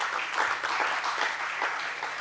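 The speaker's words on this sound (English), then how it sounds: "A round of applause for him" An audience claps together in a steady burst of applause, dense and moderately loud, with no voices over it.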